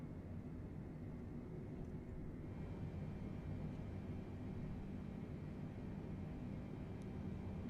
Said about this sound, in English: it is way louder in this aircraft when you're taxiing